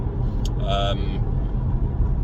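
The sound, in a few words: VW Golf mk6 car driving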